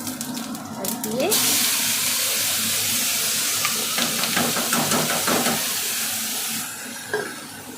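Spices hitting hot oil in a pan to fry fish with potatoes and pointed gourd give a loud, steady sizzling hiss that fills the clip and eases off near the end.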